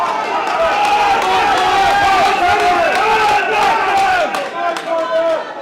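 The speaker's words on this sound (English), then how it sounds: "Crowd getting hugely animated here." A rugby crowd at an All-Ireland League Division 2C match between Clonmel RFC and Bective Rangers roars loudly and continuously, with shouting voices blending into a steady, swelling din.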